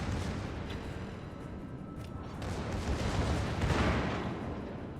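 Naval artillery shells boom and rumble in a World of Warships battle, with a dense, continuous low roar of gunfire and explosions that swells louder toward the end.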